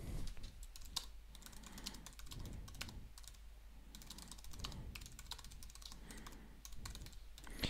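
Typing code comments on a computer keyboard: quiet, rapid, irregular key clicks in bursts with short pauses, close and alone with no talk.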